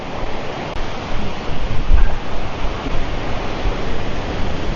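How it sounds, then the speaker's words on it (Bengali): Steady broadband rush of stream water flowing near Belpahari waterfall in Jhargram, continuous and fairly loud, with no voices over it. "ওইখান থেকে জলটা আসছে আর এখানে চলে যাচ্ছে।"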